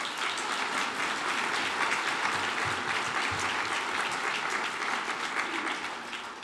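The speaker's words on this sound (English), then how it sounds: "I think they all deserve a round of applause" Steady, full applause from the audience at Ireland's National Biodiversity Conference, dense clapping sustained throughout and tapering slightly at the end.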